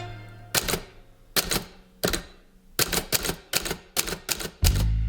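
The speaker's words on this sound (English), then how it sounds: "how long it takes to fill a blank page with a typewriter" Typewriter keys strike a page in short bursts of crisp, clacking taps separated by brief pauses, ending with a louder mechanical clunk like a carriage return, close and alone with no talking.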